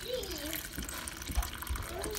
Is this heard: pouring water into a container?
yes